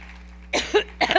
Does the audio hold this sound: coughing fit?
yes